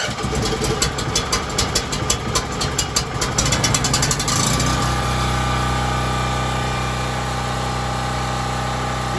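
A portable generator running at a winter tent camp: a steady close mechanical drone that sputters and pulses unevenly at first, then settles into a smooth, even hum.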